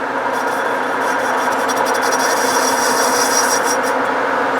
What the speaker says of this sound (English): Face off the other side of our pulley.